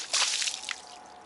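Water thrown from a pitcher splashing and dripping off a coated car's panel, a brief bright spattering burst that trickles away over about a second, close and alone.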